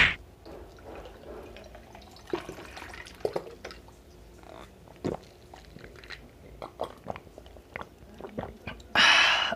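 Eating cheesy pancit canton noodles, with wet, irregular chewing and biting sounds close to the mic, soft slurps and smacks scattered throughout, and a brief louder rustle near the end.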